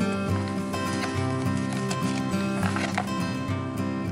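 A horse sound, dense and continuous, with rhythmic hoof-like clopping over a buzzing harmonic texture, steady and loud throughout.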